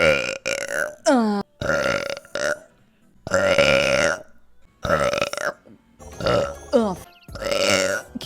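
A person lets out a run of about six loud, close burps, each a drawn-out voiced belch separated by brief silences.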